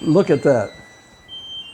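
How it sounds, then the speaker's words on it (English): A kitchen timer goes off after a chocolate apple lemon cake comes out of the oven. Its thin, steady electronic tone sounds faintly behind a close voice speaking, then carries on alone. "you can hear the timer going off in the background"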